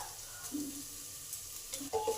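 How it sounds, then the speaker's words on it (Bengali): Quiet frying of onion, ginger and garlic in a pan, a soft sizzle with a few light stirring scrapes near the end. "এবার আদা পেঁয়াজ রসুন সব ভালো করে একসঙ্গে একটু লাল লাল করে ভেজে নেব"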